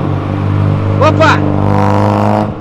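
Cars accelerating past on an avenue, including a Nissan GT-R and a lowered Ford Escort, with a loud, close engine drone, a sharp rising rev burst in the middle, and fading exhaust after.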